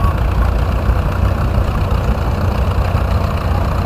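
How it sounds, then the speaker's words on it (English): A 1949 John Deere A tractor engine runs steadily at a parade-style hometown show, a continuous low rumbling idle with no talk over it. "Now we have Charlie Cochran from Milton, Kentucky, on a 1949 John Deere A"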